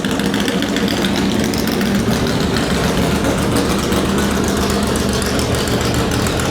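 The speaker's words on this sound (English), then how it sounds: "That car is being so loud." A front-engined race car with a rear-mounted transmission at the Laguna Seca Corkscrew hillclimb, its engine loud and close, a steady rough idling rumble throughout with no talk.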